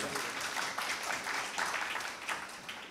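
Crowd clapping for a guest at an inauguration event in Dera Ghazi Khan, a dense, steady spread of hands heard somewhat distant and moderately faint throughout the short stretch.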